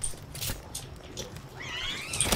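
In the Palworld video game, a cat-like creature lets out a short, rising, whiny mewing cry near the end, after a stretch of rustling in-game noise.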